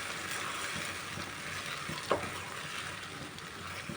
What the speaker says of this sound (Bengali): এবার এটা চিলি পনিরের সাথে মিশিয়ে দিলাম।